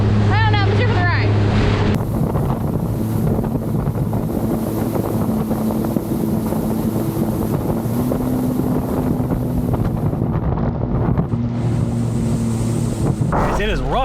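A jet ski crossing rough open sea with about two-foot chop and a roughly 12 mph south wind, heading toward the SS Breconshire wreck. A loud, steady engine and wind roar runs throughout, with a voice briefly at the start and end.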